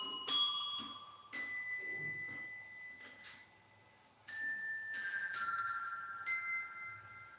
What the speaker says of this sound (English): These are the Montessori bell.